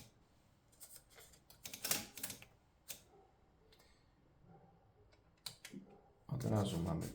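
Paper is wound into a Stoewer Model 5 typewriter, a few faint clicks and ratchet ticks from the platen knob, quiet and close, ending in a louder burst of rustling and handling noise.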